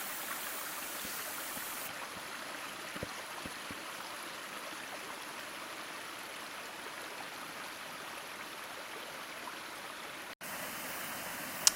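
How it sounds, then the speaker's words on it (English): Creek water flowing on an early spring hiking trail, a steady soft rushing wash of running water that continues evenly throughout, fairly faint and heard alone. "Here's another creek,"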